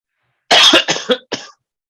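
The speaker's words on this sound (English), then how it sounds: "just cough into the mic in it" A single harsh, loud cough bursts out right up close, followed by a couple of quick rasping coughs, then silence.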